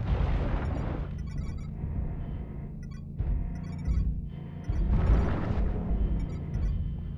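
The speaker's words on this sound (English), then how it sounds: "Artillery strike activated." Video game artillery strike: a series of deep, heavy booming explosions rolling one after another at close range, each blast swelling and fading into the next.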